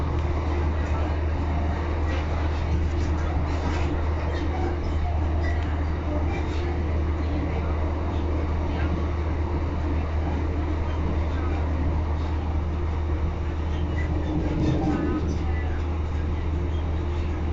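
Steady low rumble and drone inside a running East Midlands Railway class 156 diesel train, unit 156411, between Barnetby and Lincoln, continuous and fairly loud with faint cabin rattles and occasional voices in the background.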